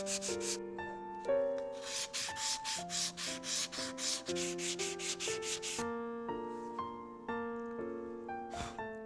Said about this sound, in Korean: 마지막에는 고운 사포를 이용해 손으로 부드럽게 문질러 줍니다.